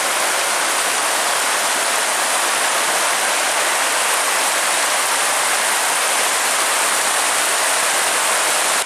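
Chapel Creek running near a cliffside hiking path, a steady, dense rushing of water that holds constant and fairly loud throughout, with no voices.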